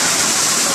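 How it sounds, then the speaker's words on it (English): A person leaps into water at a big splash contest in Hawaii, making one loud, continuous rushing splash that fills the whole short moment. "Watch this guy, watch this splash."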